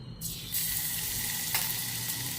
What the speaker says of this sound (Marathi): एक चमचा मिरची वाटलेली घातलेली आहे त्यावर आपण कढीपत्ता टाकून घेऊया